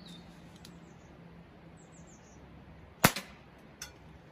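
A .22 rifle fired at bottles outdoors: one sharp, loud crack after quiet ambience with faint birds, followed moments later by a smaller, weaker report.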